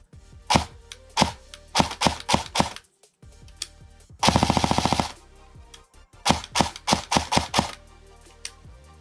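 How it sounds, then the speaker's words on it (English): An airsoft 416 rifle firing after repair: sharp single shots in uneven groups, then a fast rattling full-auto burst of about a second, followed by more single shots, all close and clear. "to show you guys that it's functioning properly, we're gonna shoot it."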